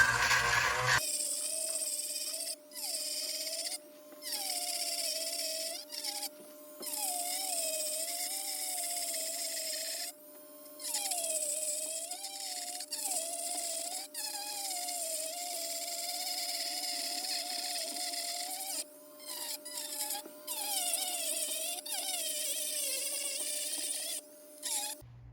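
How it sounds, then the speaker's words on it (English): A Dremel rotary tool grinds back and forth along a crack in a hot tub's fiberglass shell. Its high, steady whine comes in close bursts with brief pauses, and the pitch sags and rises as the bit bites. No voices. "And here you can go with the Dremel back and forth."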